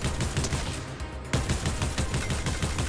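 Rapid gunfire in Fortnite, a steady stream of sharp close shots in quick rhythmic bursts with one short pause partway through.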